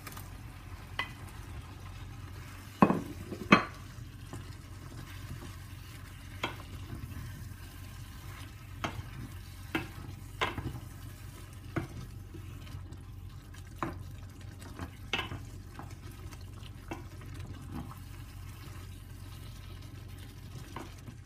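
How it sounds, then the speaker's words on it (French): Minced-meat kefta meatballs frying in a pan for a tajine, a steady low sizzle running throughout with scattered sharp clinks of a utensil against the pan. No voices. "On y met les boulettes de viande hachée."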